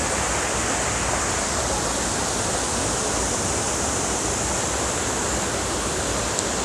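A forest river waterfall on the Oloolua trail in Nairobi pours in a loud, constant broadband rush, close by and unbroken, with no voices over it.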